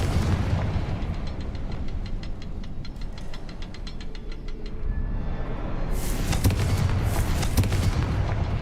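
A Confringo explosive spell blasts in a video game, a burst of broad noise over a dense, rumbling game soundscape with crackling high-end bursts near the end.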